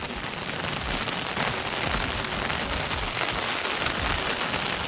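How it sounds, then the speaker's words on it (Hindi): Heavy rain pours down in a continuous, loud hiss of drops striking surfaces, steady and dense throughout with no voices. "ये देख सकते हैं बहुत मस्त बारिश हुआ थे।"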